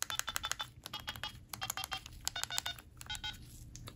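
Buttons on a 2001 Motorola V60 flip phone give quick, close clicks, pressed in rapid irregular bursts that sound faint over light background noise.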